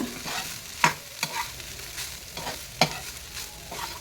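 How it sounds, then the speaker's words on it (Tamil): Cooked rice for capsicum egg rice is stirred in a hot pan, giving a soft frying sizzle under a few distinct scraping strokes of the spoon. Nobody speaks. "இப்போ சாதத்தை வந்து நிதானமாக கிளறிக்குங்க."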